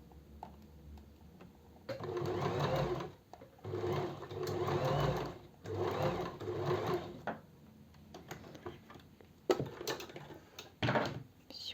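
A sewing machine stitches the seams of a cocktail dress in several close, sustained bursts of rapid whirring and clatter, separated by pauses. Quieter handling sounds and a speaking voice follow.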